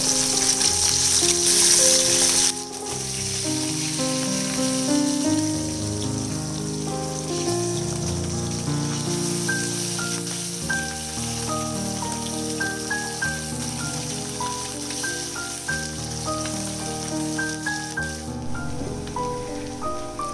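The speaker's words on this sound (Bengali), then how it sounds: "এবারে মাছগুলোকে আমি উল্টে নেব।" Small puti fish frying in hot oil after being turned over, giving a steady, continuous sizzle that runs the whole time beneath louder background music.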